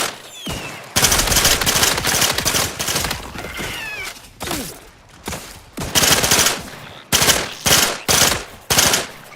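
Rapid automatic gunfire in The Outer Worlds 2 video game, loud bursts of shots with recoil, fired in repeated strings separated by short pauses, the later bursts short and choppy.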